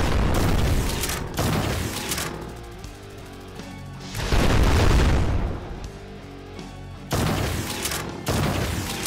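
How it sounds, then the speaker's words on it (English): Heavy gunfire from a first-person shooter set in Hell, with loud booming bursts and explosive blasts in clustered volleys separated by short lulls. "gun's still shooting at him?"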